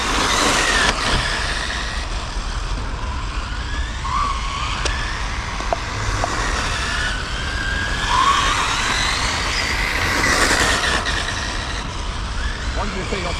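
Dodge cars, including a Challenger, lap a race track with a steady, loud roar of engines and tire noise that swells and fades as they pass, while someone speaks over it.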